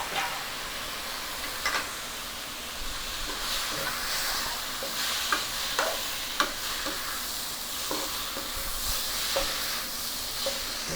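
Tomatoes being stirred into a frying bitter gourd curry, with a steady sizzle and hiss of oil under repeated scraping and clinking of a spoon against the pan, close and continuous with no talking.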